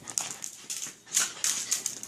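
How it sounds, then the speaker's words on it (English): Dogs whine and whimper for their treat in short, high-pitched bursts close by, several squeaky cries coming in quick succession. "this is our wonderful dogs wanting their treat"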